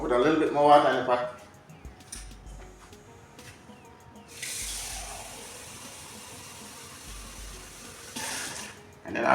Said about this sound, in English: I'll put a little bit more water in the pot.